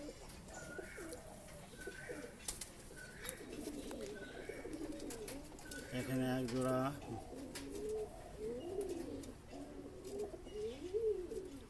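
A pair of Andhra breeding pigeons coo in repeated low, rolling phrases, fairly faint, while someone talks over them.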